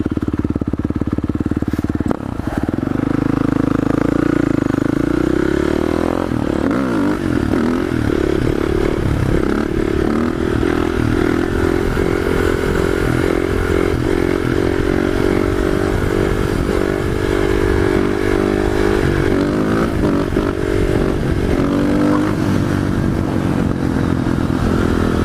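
Sumo motorcycle engine running steadily and loud, the ride rumbling over big speed bumps and train tracks with rattling clatter and occasional revving, no talk.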